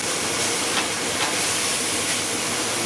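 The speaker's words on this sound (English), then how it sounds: "Now all I want to do is heat up the steak" Steak reheating in a pan gives a loud, steady broadband sizzle and hiss, close by and continuous, with no voices over it.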